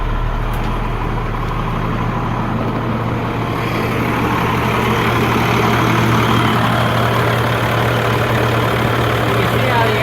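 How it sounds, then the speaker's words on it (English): A loose air compressor runs steadily at an auction, giving a constant low engine-like drone with a hum throughout, while voices talk faintly over it. "You can see how the air compressor shakes because it's loose. But it runs good."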